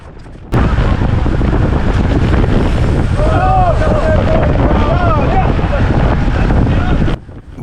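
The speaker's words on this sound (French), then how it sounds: "Il y a du vent." Strong wind roars across the microphone during a competitive road bike race, a loud continuous rushing buffet that holds steady for several seconds before dropping away abruptly at the end.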